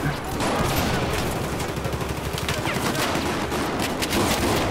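Dense, rapid gunfire from the video game Battlefield 4, with overlapping bursts and automatic fire filling the whole stretch loudly and continuously, with a faint voice underneath.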